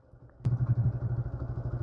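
A motorcycle at the Baghmora eco camp gives a sharp thump, then settles into a close, steady, pulsing idle, with no talk.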